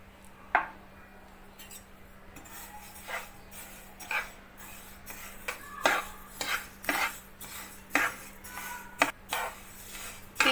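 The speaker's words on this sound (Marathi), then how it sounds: "तीळ भाजून घेऊया" Sesame seeds roasting in a dry pan for til-gud ladoo, stirred with a utensil that scrapes and clinks against the metal in irregular bursts, close and moderately loud over a steady low hum.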